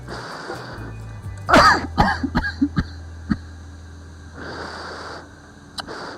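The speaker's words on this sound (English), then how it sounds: "Excuse me, I'm going to have to cough." A person painting a large mural gives a short burst of harsh coughs and throat clearing, close and loud, with a quiet room before and after.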